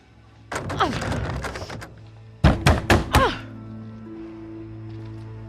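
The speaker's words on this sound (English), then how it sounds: "I can hear you banging on the door." Heavy thuds of someone banging on a door in the horror game Little Hope: a short burst of rapid knocks, a pause, then four loud separate bangs, close and alone over a low ambient hum.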